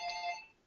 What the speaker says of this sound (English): Apologies for my phone ringing.